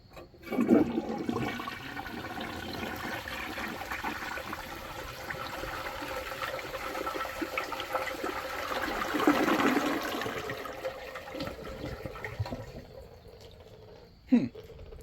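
A 1957 Rheem Richmond Empress one-piece toilet flushes loudly with a rushing surge that swells midway, then drains to a trickling refill, ending with a sharp clunk nearby.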